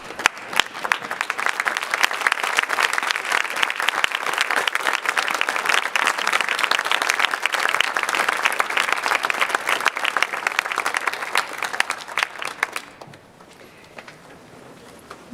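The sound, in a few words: students applauding their parents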